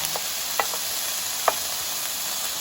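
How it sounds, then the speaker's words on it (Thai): Pork satay on long skewers grills in a frying pan with a steady, close hiss of sizzling fat, broken by a few soft clicks as the skewers shift. "เราก็เลยย่างแบบย่างกระทะเราเลยใช้ไม้เสียบยาวนะคะ"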